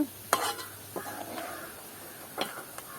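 Onions and bread pieces frying in oil in a village kitchen, a soft continuous sizzle broken by a few sharp scrapes and clinks as the pan is stirred.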